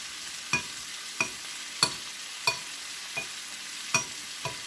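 Chicken stir fry cooking in butter in a pan, a quiet steady sizzle broken by a series of sharp, evenly spaced pops and crackles, about one every second.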